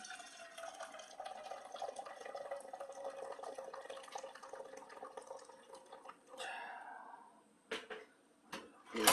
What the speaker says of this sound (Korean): 일단 물부터 붓고요